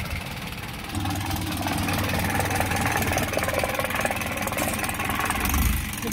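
Isuzu 4HG1 diesel truck engine, freshly oil-changed, started and idling nearby with a steady low rumble and light knock that continues without pause.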